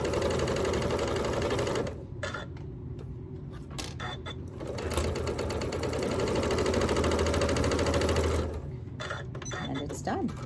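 A sewing machine fitted with a walking foot stitches quilt sashing in a rapid mechanical whir, running in bursts with brief pauses, close and steady, while someone talks over it.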